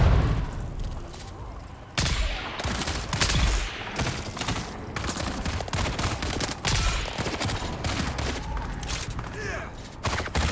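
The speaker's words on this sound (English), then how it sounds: "firing explosive bullets" Explosive bullets fired in the video game Dune, sharp gunshot bursts and booming impacts in rapid irregular volleys, loud and dense across the whole stretch, with some voice mixed in.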